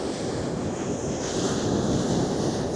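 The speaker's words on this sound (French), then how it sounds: "Regardez du coup ces petites vagues." Small ocean waves wash ashore at night on the beach in Biarritz, a steady close hiss of surf mixed with wind buffeting the microphone, continuous and fairly loud with no voices.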